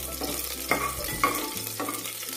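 Dried red chillies fry in hot oil in a pressure cooker for vegetable pulao, a close steady sizzle broken by a few sharp stirring scrapes and knocks of a spoon against the pot, with no voices.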